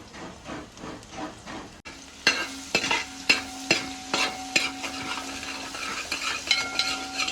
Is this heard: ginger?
yes